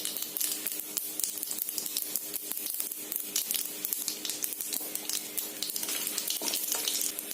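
Mustard seeds and cut dried chili fry in hot coconut oil for mushroom thoran, giving a close, continuous sizzle dotted with rapid crackling pops that stays loud and even throughout.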